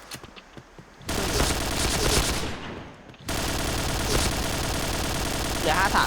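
Rapid automatic gunfire bursts in the online shooter game Point Blank, with a dense rattling stretch, a brief lull, then another sustained volley; a player talks briefly over it.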